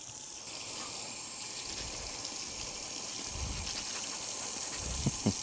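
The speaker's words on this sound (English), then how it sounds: "I'm going to wash my fruits that I will be using" Tap water runs steadily into a sink as fruit with its rind on is washed beneath it, a constant close gushing hiss with a few soft knocks near the end.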